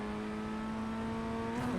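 Engine of an FF1600 race car in iRacing on the Lime Rock Park Grand Prix circuit, a steady, fairly quiet tonal drone that climbs slightly in pitch as it revs out in third gear, with no talking.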